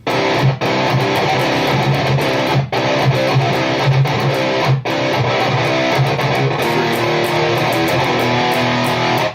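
Distorted electric guitar plays chugging palm-muted open notes in a metal riff, loud and dense, with a few brief stops breaking the steady rhythm.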